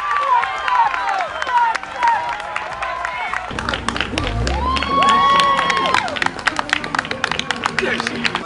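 A crowd claps and cheers for the King of the Mountains jersey winner at a stage of the 2017 Tour de Beauce road cycling race, with a steady outdoor ovation, whistles and shouts rising partway through under a nearby announcer's voice.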